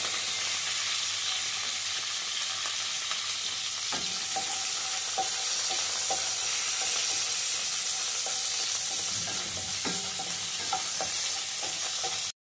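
Green chillies and dried red chillies fry in a pan with a steady, fairly loud sizzle that lasts throughout. Occasional light clicks and stirring knocks sit over it, and no one speaks.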